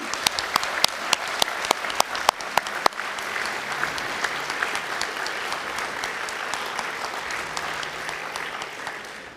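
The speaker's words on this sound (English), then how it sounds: "give a warm round of applause to your families and friends" Graduates at a university conferring ceremony applaud their families and friends: a few sharp individual claps at first swell into sustained, even applause from a large seated crowd in a hall, fading slightly toward the end.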